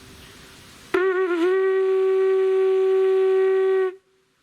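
A single low buzzed note played on a horn, starting abruptly, wavering briefly before settling into a steady, loud sustained tone that holds for about three seconds and then stops cleanly.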